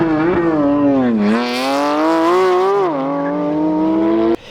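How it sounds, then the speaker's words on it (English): A Porsche flat-six sports car engine revs loudly close by, its tone dipping and then climbing smoothly as the car accelerates through a gear change before cutting off abruptly. "All these cars have flat 6s and they all sound ridiculous"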